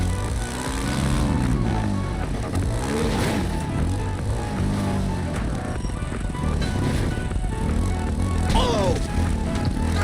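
A quad bike engine in the video game GTA 5 revs and drones continuously during a superhero survival race, a loud, rough, fluctuating motor sound with shifting pitch and no clear voices over it.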